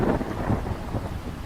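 Heavy rain pours down steadily through a thunderstorm, with low rolling thunder rumbling beneath it, loud and close, with no voices.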